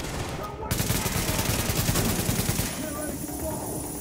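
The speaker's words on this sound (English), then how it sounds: "Ooh, that was a big explosion." Gunfire and a heavy blast from the video game Tom Clancy's The Division, a dense burst of rapid shots crackling loudly for a few seconds before fading into a softer rumble and ambient hum.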